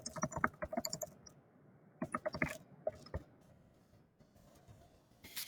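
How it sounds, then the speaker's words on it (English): Bursts of quick keystrokes on a computer keyboard come in short clusters separated by pauses, close and fairly quiet, with a few isolated taps between runs. "So you might start typing."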